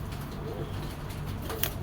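A pigeon coos softly in a low, throaty, rolling murmur, steady and fairly faint across a short stretch.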